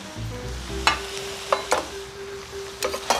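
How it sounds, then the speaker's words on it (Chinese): Cabbage, wood ear mushrooms and carrots being stir-fried in a wok, with a low sizzle punctuated by several sharp scraping and clanking stirs of the spatula. "现在把这些高丽菜，哦，这些木耳、红萝卜都下锅"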